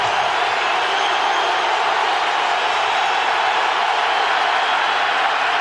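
Stadium crowd at an NFL football game, Patriots at Steelers in 2004, roaring steadily on its feet on third down; a dense, constant wall of crowd noise fills the whole stretch with no break.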